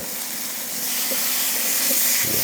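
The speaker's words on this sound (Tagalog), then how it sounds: "nagpiprito tayo ng pork chop, natural yan na lalabas yung liquid galing dito" A pork chop fries in a pan with a steady, close hiss as its liquid boils off, rising slightly in loudness with a few soft pops.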